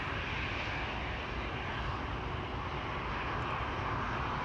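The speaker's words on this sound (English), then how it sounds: "the 747 will be taking off from runway 24" Boeing 747 taking off from runway 24 at Amsterdam Schiphol, a steady, broad engine roar that holds loud and unbroken throughout, with no other sounds standing out.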